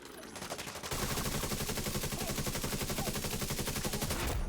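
Rapid automatic gunfire from a turret drone in The Division 2, a dense continuous rattle that kicks in after a second and stays loud and steady to the end.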